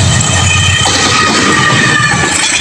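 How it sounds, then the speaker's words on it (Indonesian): A train passes close by while crossing another long-distance train at a junction in Indonesia, giving a loud, continuous rumbling roar with rattling and screeching that stays steady throughout with no talk. "ini ada kereta api melintas langsung nih berpapasan bersama KA jarak jauh"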